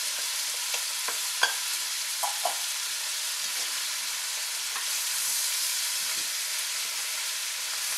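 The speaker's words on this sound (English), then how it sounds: "And stir this around here." Onions, carrots and celery being stirred in a hot pan over medium-high heat for a wild turkey pot pie, a steady soft sizzle with a few faint utensil scrapes and taps, close and fairly quiet, no talking.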